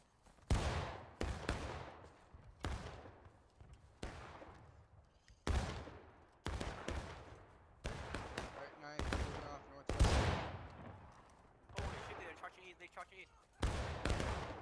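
Musket fire from the Civil War video game War of Rights, a ragged series of sharp, loud shots, some near and some farther, cracking one after another with echoing tails over roughly fifteen seconds.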